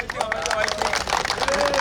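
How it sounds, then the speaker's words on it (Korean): Applause from the crowd at a Suncheon ceremony marking the selection of the site for a medical school hospital, dense, continuous clapping mixed with crowd chatter and voices, a high whistle-like tone drifting over it. "박수 좀 크게 쳐주십시오"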